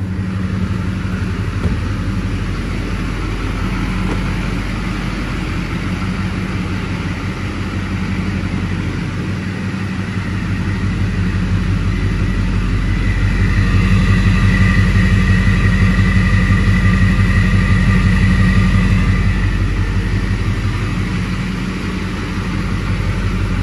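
A 2006 Chevrolet Silverado 2500 with the 6.6L Duramax diesel and 116,000 miles runs steadily, its deep low rumble holding constant with a mild swell in loudness midway, no voices present.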